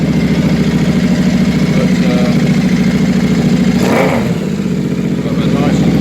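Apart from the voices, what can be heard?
Royal Enfield 650 Interceptor motorcycle engine revving with new silencers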